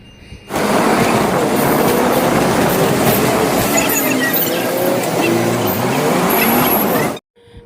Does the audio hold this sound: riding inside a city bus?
yes